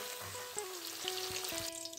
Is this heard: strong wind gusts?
no